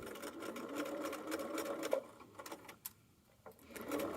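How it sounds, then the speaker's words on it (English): A sewing machine back stitches a quarter-inch seam allowance on a fanny pack reinforced with webbing, running in a steady close whir for about three seconds before stopping. "So I'll go ahead and back stitch 1/4 inch seam allowance."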